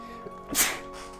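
A single short sneeze bursts out close by over a steady background hum.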